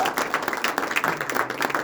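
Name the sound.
audience applause for jazz ensemble soloists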